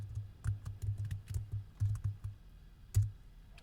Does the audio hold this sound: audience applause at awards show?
no